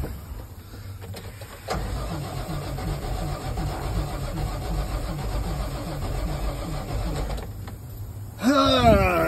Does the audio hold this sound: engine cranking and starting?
yes